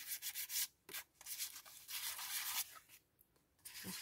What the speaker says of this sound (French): Bon, un peu de papier à poncer